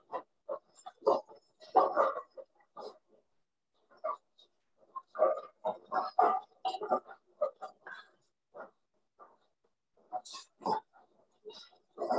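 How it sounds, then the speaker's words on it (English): Small pigs in a barn grunt and oink in scattered bursts, some close and loud, others softer, with brief quiet gaps between the calls. "These are a little smaller pigs."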